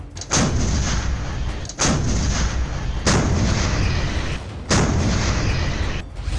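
Heavy artillery cannons fire double blasts, booming out four times at regular intervals, each a sharp loud crack followed by a long rumbling echo.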